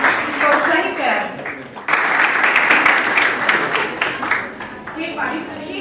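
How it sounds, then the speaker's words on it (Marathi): Audience applause fills a hall during an awards ceremony honoring contestants, a steady wash of clapping that briefly dips and then swells again, with voices audible beneath it. "सगळ्यांनी टाळ्या वाजवून या स्पर्धकांना प्रोत्साहित करावे."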